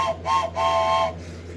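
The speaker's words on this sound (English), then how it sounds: "James blew his whistle long and loud." Steam engine whistle blown long and loud in a Thomas & Friends railway scene: three bright tonal blasts, two short and one held, close and clear over a low rumble.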